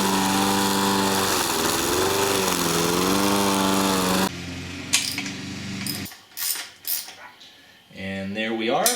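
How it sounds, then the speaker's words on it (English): A neighbor's lawn mower drones steadily in a yard with a rising and falling engine pitch, then cuts off abruptly and gives way to scattered clatters and knocks. "That's the sound of the neighbors mowing their yard."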